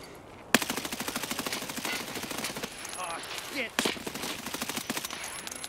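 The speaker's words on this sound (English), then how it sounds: "there's somebody else shooting at me then" Sustained rapid automatic gunfire in the Escape from Tarkov shooter, a fast regular burst of shots lasting several seconds with a louder crack partway through and faint voices underneath.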